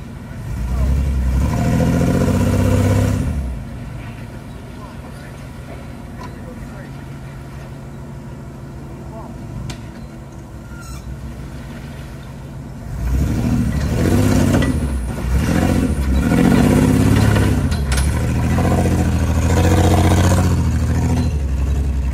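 Off-road vehicle on a rocky Uwharrie trail: a mid-pitched engine rumbles steadily, revving up louder at the start and again in the second half, with people talking over it.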